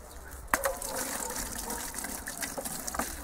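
Distilled water pouring steadily from a container, a continuous close gushing splash that starts abruptly with a knock and runs on at moderate level.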